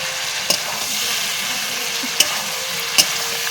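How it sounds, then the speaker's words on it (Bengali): A curry of fried pointed gourd and potatoes sizzles steadily in a pan while being stirred, with a few sharp utensil clinks breaking the continuous hiss. "সব কিছু একসঙ্গে দিয়ে ভালো করে একটু কষে নিচ্ছে এখন"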